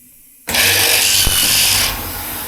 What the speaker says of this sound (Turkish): Önce yatay deliyorum.